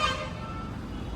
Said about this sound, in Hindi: हाईवे के पास है ना घर हमारा, तो यहाँ हॉर्न बहुत बजते हैं